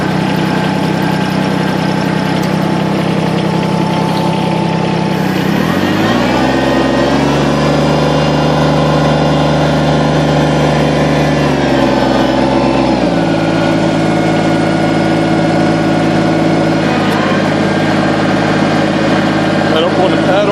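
A tractor engine runs steadily while driving along, its low drone dipping and shifting in pitch midway as the pedal is worked during a four-wheel-drive engagement, with a person talking over it throughout.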